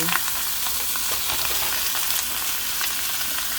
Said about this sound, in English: we're adding the veggies. Let it saute